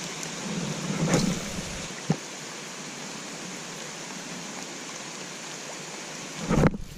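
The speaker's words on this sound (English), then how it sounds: "rain's picked up a lot more now." Heavy rain falls at a pond while someone is fishing, a steady, full hiss through the whole stretch, with a few louder splashes or knocks near the start and at the end.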